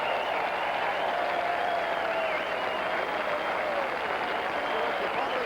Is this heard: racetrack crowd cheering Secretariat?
yes